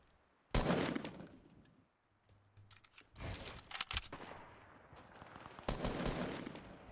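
Gunfire bursts during a Fortnite battle royale match: a loud shot near the start, then clusters of rapid firing in the middle and end, with quieter gaps between.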